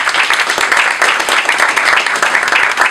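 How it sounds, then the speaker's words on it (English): A crowd at a Pride awards ceremony in Queens Borough Hall claps loudly and continuously, dense close applause filling the whole stretch. "So a round of applause for Commissioner Morales"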